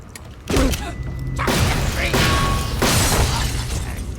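Frozen enemies shattering in Borderlands: The Pre-Sequel, several sharp crunching, glassy break-ups and thuds in quick succession amid loud gunfire and combat noise.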